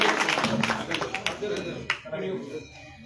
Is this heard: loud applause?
yes